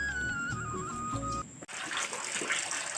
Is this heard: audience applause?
no